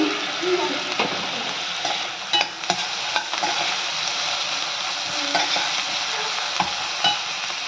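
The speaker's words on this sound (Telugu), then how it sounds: "గ్రేవీ ఫ్రై అయిపోయిందండి." Gravy with coconut and poppy seed paste fries steadily in a pan, a continuous sizzle broken by occasional scrapes and clinks of a stirring spoon, with no voices.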